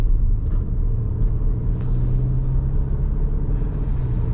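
Cupra Formentor VZ 2021 accelerating on a night drive, a steady low engine rumble that swells slightly as speed builds, heard from inside the cabin with no talking.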